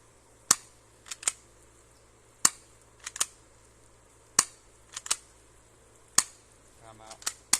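A Cyma P.698+ spring airsoft pistol is fired repeatedly with the hop-up off, producing sharp, close snapping shots, often in quick pairs of cocking clack and shot, spread over several seconds with a brief murmur of voice between them.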